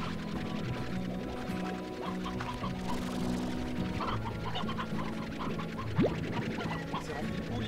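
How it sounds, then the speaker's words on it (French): Faint chickens cluck in the Slime Rancher video game, with soft scattered clucks set against a steady background of tonal game music. "C'est rempli de poules ici."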